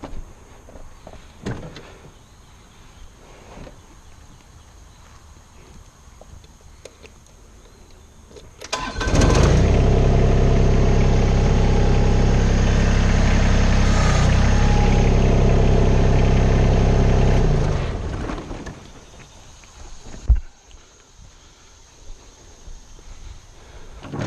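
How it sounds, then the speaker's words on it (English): An LS MT125 tractor engine starts and runs loudly for several seconds, a steady rumble, then cuts off; quieter clunks and movement come before and after. "and roll the tractor out."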